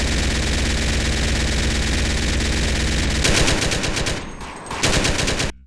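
Rapid automatic gunfire in GTA San Andreas with a recoil mod, a loud continuous stream of shots that briefly breaks off and resumes before ending abruptly.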